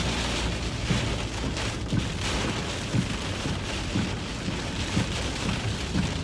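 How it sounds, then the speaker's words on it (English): A tornado-warned storm in Arkansas batters a vehicle with rain and gusts of about 50 mph, a continuous heavy wash of noise with periodic low thumps and surges as the wind rocks the car. "Getting slammed with easily 50-mile-per-hour gusts right now, guys."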